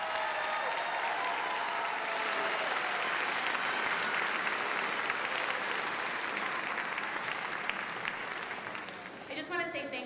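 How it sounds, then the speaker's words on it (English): A long, steady round of applause from a concert audience for fourth and fifth graders at an elementary school spring concert, continuous and even before fading slightly as a voice starts talking at the very end. "Let's give one last round of applause to our fourth and fifth graders."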